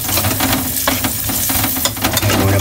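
Garlic sautéing in a frying pan for a spicy creamy tofu dish, giving a steady, close, dense sizzle with occasional scraping stirs throughout.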